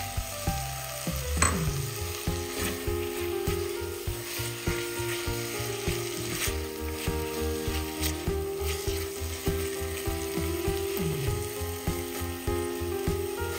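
Tomatoes fry in a pan with an onion and spice mixture for vegetable dum biryani, a steady sizzle broken by repeated scraping stirs, close and fairly quiet with no voices.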